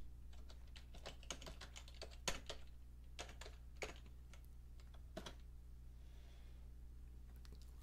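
Someone typing a comment on a computer keyboard, quick irregular bursts of light key clicks at close range, pausing briefly and trailing off toward the end, with no talking.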